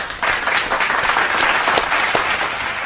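A short burst of crowd applause and clapping, fairly dense and even, running continuously for a few seconds with no voices heard.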